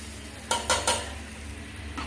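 A spoon stirs toasted coconut into sambar in a pot with the stove switched off, making three quick scraping strokes close by over a faint background hum.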